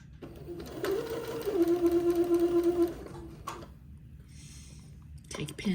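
A sewing machine stitches an armhole seam on a child's bishop dress, a close, steady motor hum with rapid needle rhythm for about two seconds before stopping, with a voice speaking over it.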